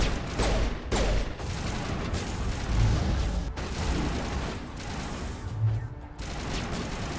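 Covering gunfire in the video game Mass Effect: dense, rapid bursts of shots and mechanical clatter roll on continuously for several seconds at a moderate level, with no voices heard.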